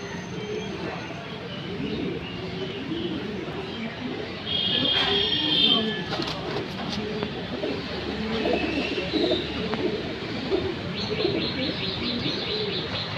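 Pigeons in a racing pigeon loft in Tangail coo and chirp steadily at close range, with brief higher trills and scattered flutters, while someone talks quietly nearby.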